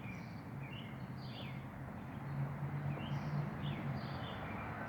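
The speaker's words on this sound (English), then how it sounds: "Listening to the birds and the traffic." Outdoors, small birds chirp and trill in short, faint phrases over a constant low wash of distant traffic.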